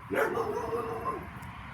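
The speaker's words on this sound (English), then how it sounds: "dog barking, yeah." One dog gives a single drawn-out bark that trails into a whine, heard at moderate distance over steady background hum.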